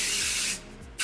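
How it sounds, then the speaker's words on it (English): Hairspray hisses from an aerosol can onto hair during curling-wand styling, one loud continuous spray of about half a second that cuts off, then a brief second burst starts at the very end. "I'm going to use the holding spray"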